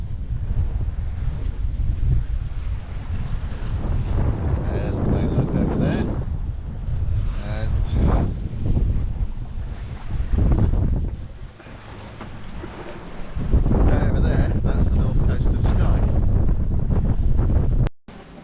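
Strong wind of 15 to 20 knots roars across the microphone on a sailboat running at about 6 knots with reefed sails off the Outer Hebrides, with waves and rushing water, loud and gusty throughout.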